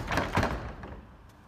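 A door is forced open with an axe during a wartime Blitz scene, giving two heavy wooden thuds close together at the start, followed by a fading rumble.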